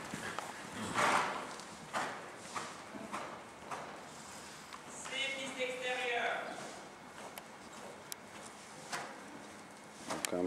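Rhythmic hoofbeats of a horse cantering in an arena on soft ground, moderately distant, with a person talking over them and birds chirping in the background.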